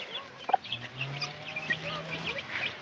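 Soft peeping of chicks and occasional low clucks from a hen, close and fairly quiet, scattered irregularly throughout.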